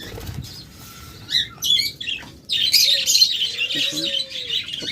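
Budgerigars chirp and twitter busily while wings flap in short bursts, close by and fairly loud.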